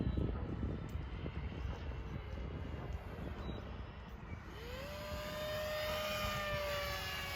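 An FT Versa RC model airplane flying, its small electric motor droning steadily overhead, then a rising whine as the throttle changes; wind noise throughout, no talking.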